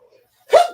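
A single sharp sneeze bursts out close and loud after near silence, one quick explosive burst with a breathy tail, during a relaxed afternoon repair session with 3D printer settings being discussed.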